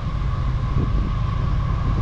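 A CSX freight train of tank cars passes at full throttle, a loud, steady low rumble with a sustained mid-pitched hum and no break across the moment.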